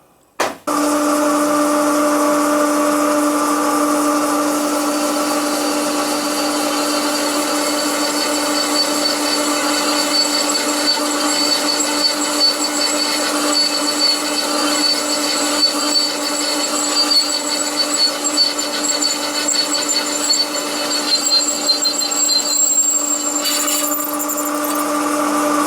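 A power drill boring a hole runs at a steady, loud whine for about twenty-five seconds after a brief start, with a constant pitched motor hum and no pauses.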